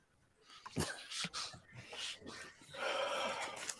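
A dog nearby snorts, sniffs and gives small whimpering noises in short, irregular bursts. The sounds are faint and close, with no talking.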